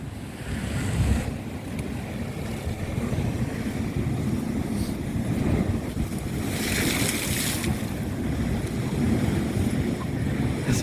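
Big ocean waves surging onto Goodrington Sands near Paignton at high tide, a continuous heavy roar of surf with wind buffeting the microphone and a louder wash breaking partway through.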